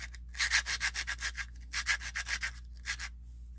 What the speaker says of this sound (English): Grip the coin at an angle, sand that edge.